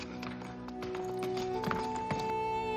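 A donkey walks along the stepped trail up to the Petra Monastery in Jordan, its hooves clopping in a loose rhythm under outdoor background noise, fairly faint.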